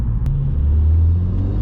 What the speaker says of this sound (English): This noise from the induction kit sounds so good